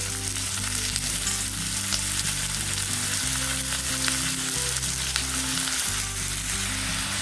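Half a kilo of brinjal cut lengthwise fries with sautéed onions in a pan, crackling in a dense, steady sizzle close up, with a low rumble of the burner underneath and no voices.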